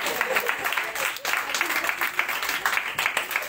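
A church congregation at an evangelist's French-language service applauds for the Lord, a dense, steady wash of clapping that carries on for several seconds, with voices mixed in.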